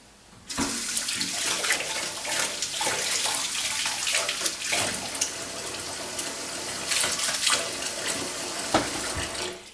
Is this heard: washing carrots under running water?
yes